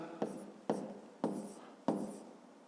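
Four separate pen strokes on paper, each starting with a sharp scratch and fading, spaced roughly half a second apart, close up and quiet with no talking.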